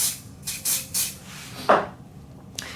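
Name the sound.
spraying glue onto the top of a cast centerband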